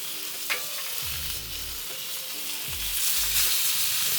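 Steaks sear in a hot pan with a constant loud sizzle, joined by a few low thumps and scrapes as the meat is moved and flipped. The sizzle swells toward the end.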